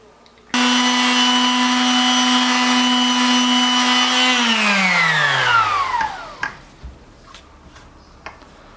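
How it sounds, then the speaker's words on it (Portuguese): A power sander strips paint from a Tagima T735 electric guitar body, running with a steady, loud whine before winding down and trailing off into quiet bench clatter. No one speaks. "Estou terminando de lixar aqui a pintura do corpo da guitarra do Ricardo."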